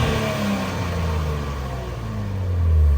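A 2023 Nissan Z with a manual gearbox and dual exhaust rumbles steadily, then swells louder in a brief rev near the end, close by and with no talk.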